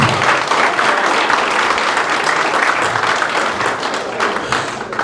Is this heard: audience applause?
yes